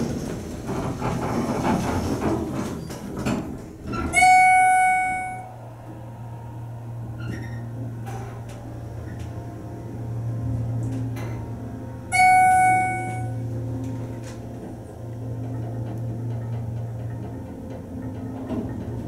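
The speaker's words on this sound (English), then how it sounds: "Now listen to the motor." Schindler hydraulic elevator motor at a convention center running with a low steady hum, broken by two bright chime tones and a few clicks and clunks, close and fairly loud, no talking.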